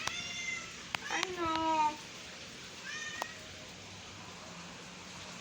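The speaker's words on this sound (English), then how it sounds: "My cat." A house cat meowing close by, with a few drawn-out meows in quick succession and then a shorter one. A person speaks briefly over the sounds.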